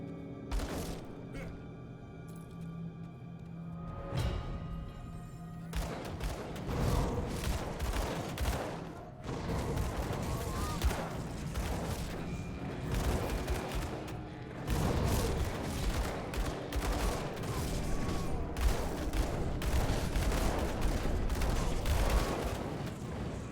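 Gunshots during a video game boss fight, with dense volleys of rapid shots and booms continuing throughout, mixed with game effects and someone talking over them.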